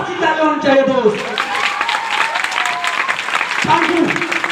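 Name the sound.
audience applause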